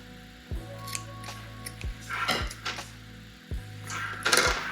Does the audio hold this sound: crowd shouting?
no